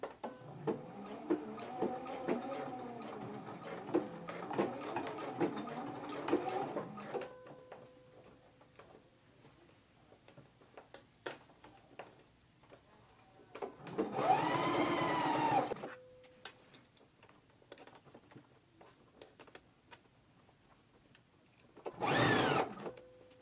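Sewing machine stitching a waistband onto pants at a 5/8 inch seam allowance: a sustained whirring run of stitching, then quiet handling clicks, two more shorter bursts of stitching, close and clear with no talking.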